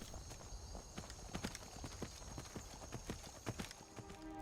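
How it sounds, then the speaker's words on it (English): Horse hooves clip-clop in the Skyrim video game, a steady quick rhythm of distinct hoofbeats at moderate loudness against a soft ambient game backdrop. "Having Arvak means you have a steed at your fingertips if you ever need one"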